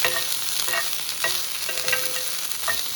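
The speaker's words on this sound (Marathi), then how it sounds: "हे वटाणे फार वाईट उडतात त्यामुळे जास्त गॅस बारीक ठेवून सावकाश त्याच्यावरती मंद आचेवरती भाजून घ्या" Green peas dry-roasting in a pan over a low flame, giving a steady soft sizzle and crackle with faint scraping stirs throughout, close and uninterrupted, with no talking.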